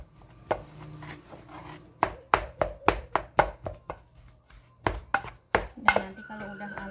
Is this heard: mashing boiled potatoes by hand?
yes